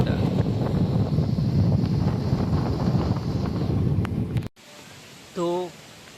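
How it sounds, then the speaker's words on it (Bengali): Wind gusting outdoors in rainy, overcast weather, a steady broadband rush buffeting the microphone for about four seconds before cutting off, followed by a brief tonal sound in near quiet. "বাইরে বৃষ্টি হচ্ছে, হাওয়া দিয়েছে,"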